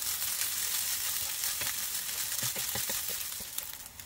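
Sardine fried rice, chao fan style, sizzles steadily in a pan with a continuous frying hiss, punctuated by scraping stir strokes and light clinks toward the end.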